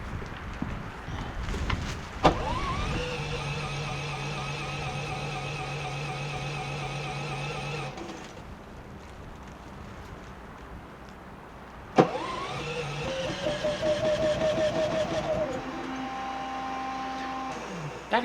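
A vehicle engine cranks while its fuel is switched from gas to propane, giving two long, whining starter bursts separated by a quieter pause, close and fairly loud.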